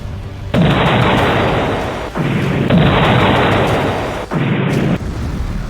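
Heavy, booming explosions roll out one after another, loud and rumbling, with a muffled, bass-heavy rush.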